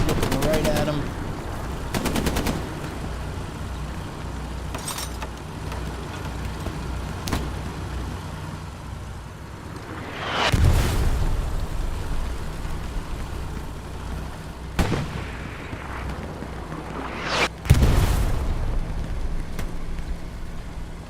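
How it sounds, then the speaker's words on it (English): Artillery shells exploding in the WWII shooter Hell Let Loose on the Sainte-Marie map come as several heavy, spaced booms, one every few seconds, mixed with sharp gunfire cracks and a low vehicle rumble, with a voice talking over them. "Artillery now. That might be Refuze artillery."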